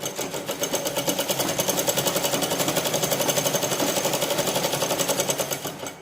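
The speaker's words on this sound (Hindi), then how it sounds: "यहाँ पे ऐसे सीधी सिलाई कर देंगे" A sewing machine hums in a steady, rapid needle rhythm as it runs straight stitching on fabric for a can-can petticoat, close and continuous from start to end.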